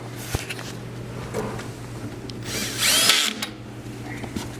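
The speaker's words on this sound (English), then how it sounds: "we'll finish mounting, screwing the tabletop screws in the bottom" A power drill drives screws up into the underside of a concrete ping pong tabletop, with short whirring bursts and one louder, longer run near the end over a low steady hum.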